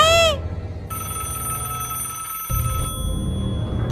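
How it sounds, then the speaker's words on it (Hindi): A telephone rings with a bright electronic trill, followed by a sustained tonal ring that cuts off abruptly, leaving a low room rumble behind; no speech over it. "ये तो फिर से रिंग कर रहा है।"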